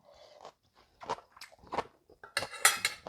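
Crisp crunching bites and chewing while eating homemade Thai red curry, several separate crunches close to the mic, the last ones loudest, with no talk.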